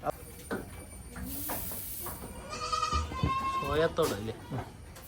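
Goats bleat several times at close range on a goat farm in Kerala, wavering calls rising over a steady background hiss.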